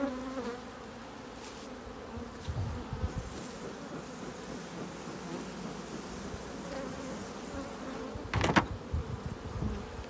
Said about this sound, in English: I always try to come behind the bees, you know what I mean? Instead of going in the front.